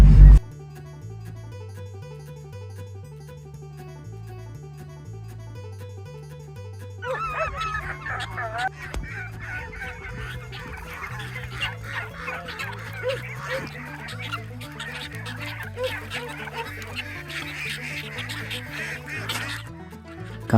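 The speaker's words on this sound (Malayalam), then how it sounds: "ഈ കോഴികളുടെ ശബ്ദം, താറാവുകളുടെ ശബ്ദം ഒക്കെ പാടും." Turkeys and ducks call on a farm in Albania, first as sparse calls over a quiet background, then as a busy, overlapping chorus of squawks and quacks that continues to the end.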